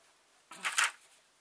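Scissors trim the end of a piece of fabric in one quick, crisp snipping burst in an otherwise quiet room.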